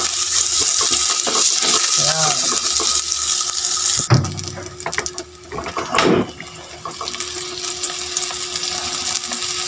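Water is poured into a cooking pot while a fish soup is being made at home: a short, close splashing gush in the middle with light clinks of pot and utensils, and a person talking earlier on.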